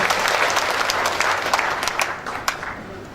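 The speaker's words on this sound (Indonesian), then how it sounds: "Kita berikan tepuk tangan dulu buat Tuhan Yesus." Church congregation claps together in a dense round of applause that gradually thins and fades toward the end, heard from within the hall.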